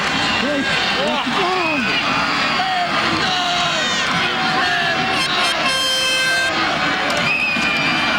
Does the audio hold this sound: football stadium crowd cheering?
yes